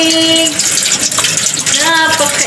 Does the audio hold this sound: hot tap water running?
yes